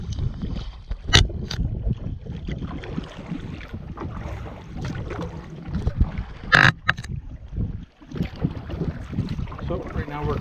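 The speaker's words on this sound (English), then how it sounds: "So right now we're crossing the lake that gave Mike his canoe paddling name." A canoe is paddled across a lake in Algonquin, with irregular splashes and knocks of the paddle against the hull over gusty wind noise and low water sounds, and a voice now and then.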